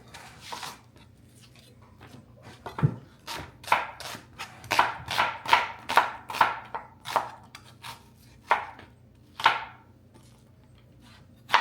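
Onion being chopped with a knife on a board in a home kitchen, a run of crisp, close, fairly regular chops, about a dozen strikes with brief pauses in between.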